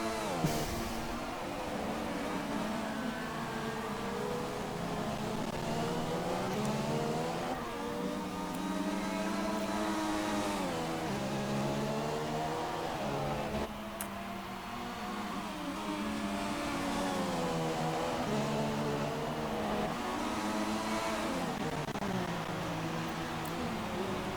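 Formula 1 car engines in F1 2016, a continuous high whine rising and falling as cars chase closely for position, steady and prominent throughout with shifting pitch.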